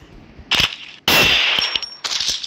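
Woodpecker gun firing in the Free Fire mobile game, three sharp, loud metallic shots spaced about half a second apart, each with a bright ringing tail.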